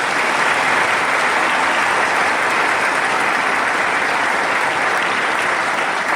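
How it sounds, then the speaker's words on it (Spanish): Sustained, dense applause from a church congregation fills the whole stretch at a steady, loud level, with no pause or voice rising above the clapping. "Y ahora un fuerte aplauso a la Santísima Virgen María."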